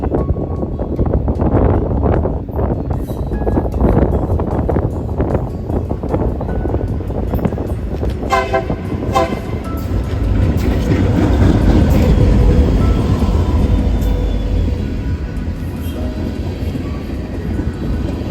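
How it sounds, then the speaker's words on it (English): A Union Pacific LVB60 freight led by an SD40 locomotive rolls past, loud and close, its broad rumble and clanking cars holding steady for the whole stretch with some wind buffeting the microphone. "The last train before I headed home for the night was the UP LVB60 with an SD40 end leader."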